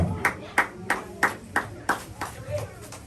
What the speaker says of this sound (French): On applaudit cet esprit, bon Dieu. Applaudissez, applaudissez, applaudissez.